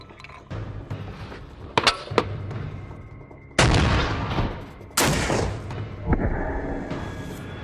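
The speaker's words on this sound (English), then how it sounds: "We'll load a B-32 armor piercing." A Soviet WW2 PTRD 14.5mm anti-tank rifle fires a B-32 armor-piercing round outdoors, giving two heavy, sharp booms a second or so apart, each trailing off into a rumbling decay, with metallic clinks of the rifle being handled beforehand.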